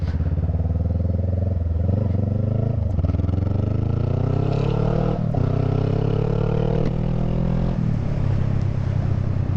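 A motorcycle on a winter ride, its engine loud and close throughout, the pitch climbing through gear changes as it accelerates, with wind noise behind it.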